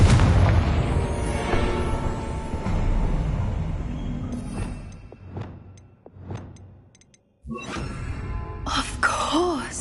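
A Confringo fire spell explodes in Hogwarts Legacy with a heavy, rumbling boom that trails into crackling bursts, followed by sharper magical whooshes and pops after a brief near-silence.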